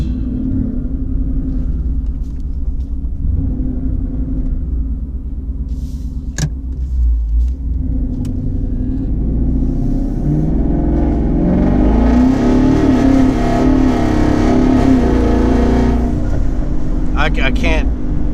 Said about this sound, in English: I'm trying to roll into the throttle, guys, but it's just spinning.